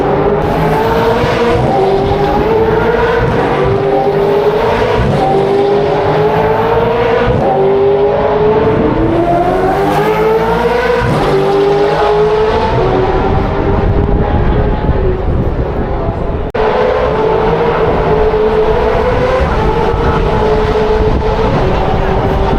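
Supercars race at the Adelaide 500 street circuit in a loud, continuous roar of engines that rises and falls as cars pass, with overlapping pitch sweeps and crowd-level noise filling the whole stretch.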